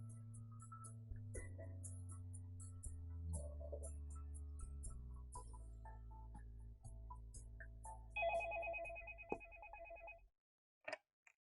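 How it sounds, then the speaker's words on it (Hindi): A telephone rings with a repeating melodic ringtone that plays on for about ten seconds before cutting off, followed by a couple of faint clicks, with no speech. "अरे वफा का फोन है"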